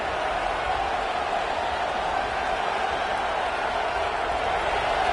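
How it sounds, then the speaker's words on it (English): A football stadium crowd at a college game roars continuously, a dense, loud wash of cheering and noise that stays steady without breaks. "Listen to this crowd just shaking the girders of this place, trying to help their defense"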